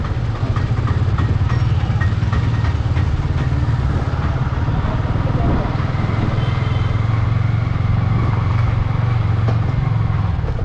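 A Benelli TNT 300 motorcycle engine runs steadily in a loud, continuous drone close by, with no pauses.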